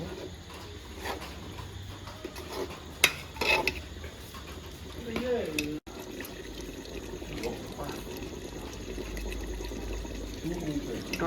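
Water pours and splashes into a pot of desi chicken curry, a soft steady trickle with clinks of utensils and pot, faint and close, while people talk intermittently.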